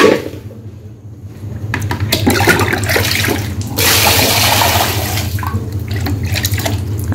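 Tap water runs steadily and loudly for the whole stretch while pieces of market-cut fish are soaked for cooking in a home kitchen, with no talking.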